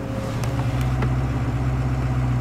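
A Ford Crown Victoria with a hood scoop idling below 1,000 RPM, a steady low engine rumble close by with a few faint clicks over it and no voices.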